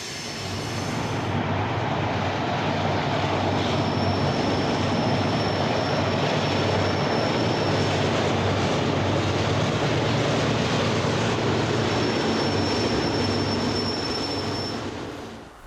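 Loaded coal train carrying black coal from the Craig and North Fork branches, hauled by General Electric AC4400 locomotives, rumbling past steadily and loudly with continuous wheel noise and faint high squeals, no voices.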